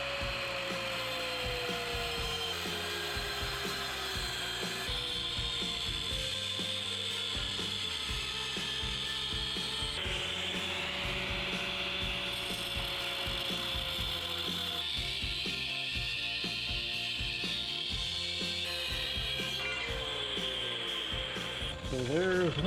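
Cutting a steel frame tube on a Mega Moto 212 minibike for a swing arm kit install, a loud continuous grinding, rasping cut with shifting pitch lasting throughout, rising sharply at the end.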